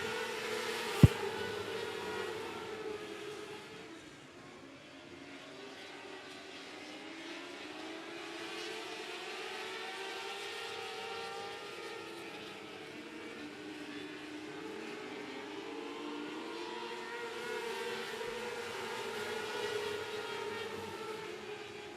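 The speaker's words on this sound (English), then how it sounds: "Here we go with our micro turf cars." Micro turf cars racing on the 105 Speedway during a regular race program, small engines droning and whining in overlapping waves as the pack circles the track, steady and moderately distant.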